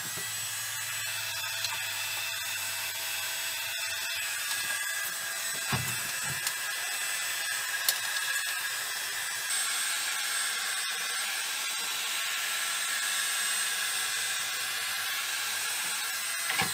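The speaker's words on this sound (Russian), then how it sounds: "Берем строительный фен и нагреваем." A heat gun heating a plastic bottle blows steadily with a constant high-pitched whine and airy rush, close and uninterrupted throughout, with a few faint knocks.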